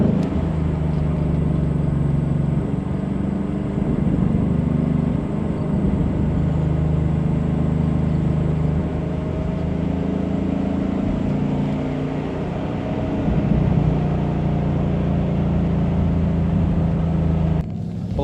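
A Ford Mustang Dark Horse drives a curvy road on damp pavement, its engine a steady, loud in-cabin drone with shifting tones as it works through the bends, no talking over it.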